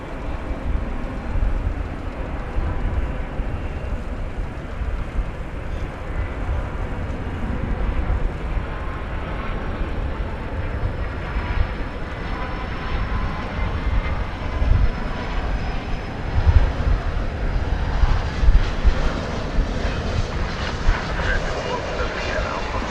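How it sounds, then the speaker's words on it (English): An American Airlines Airbus A319 jet departing DFW Airport at night, engine roar rising and rumbling steadily from a distance, with people talking intermittently over it. "Here goes an American Airlines Airbus A319 to San Luis Potosí in Mexico."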